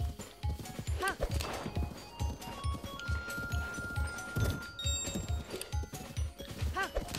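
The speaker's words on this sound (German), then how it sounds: "Jetzt reitet, du dummes Pferd." A horse gallops in Zelda: Breath of the Wild, its hooves thudding in a steady, rapid clip-clop rhythm at close range, with someone speaking faintly at times over the hoofbeats.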